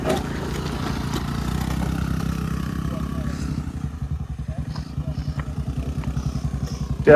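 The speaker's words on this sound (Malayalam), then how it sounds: "അവിടെ നിന്ന് മേലെന്നൊരു ബുള്ളറ്റ് ഇറങ്ങി വരുന്നുണ്ട് ട്ടാ" A Royal Enfield Bullet motorcycle descends a hill at a Malappuram viewpoint, its engine thumping in a steady rhythmic pulse that grows more distinct and closer toward the end, with people talking over it.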